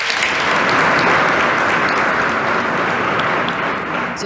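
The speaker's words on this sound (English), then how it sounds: "Let's give him a round of applause." A large audience at the New York State of the State address claps for Lieutenant Governor Antonio Delgado, producing a loud, sustained wash of applause that holds steady and then begins to fade slightly near the end.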